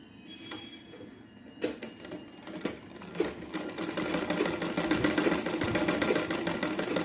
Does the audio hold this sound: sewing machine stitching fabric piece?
yes